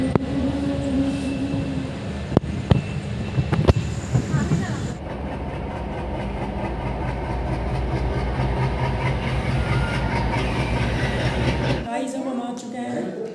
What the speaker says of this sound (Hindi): फाइनली अब हमको हल्द्वानी के लिए ट्रेन मिल चुकी है